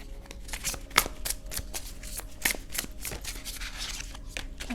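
Oracle cards are shuffled by hand for a tarot reading, giving a continuous close riffling and flicking with a few sharper slaps of cards knocking together.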